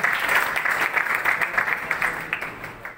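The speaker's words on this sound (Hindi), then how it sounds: "so please come on stage mister Jain के लिए जोरदार तालियां हो जाएं" An audience applauds as a person comes onto a stage at a company event, a dense crowd clapping that swells, keeps going, then starts to fade toward the end.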